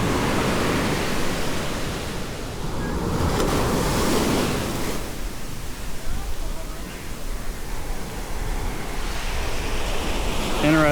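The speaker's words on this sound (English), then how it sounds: "Wow. Yeah, look at that beach. This goes and goes." Steady ocean surf washes along a long, nearly empty beach, a continuous broad roar with wind buffeting the microphone throughout.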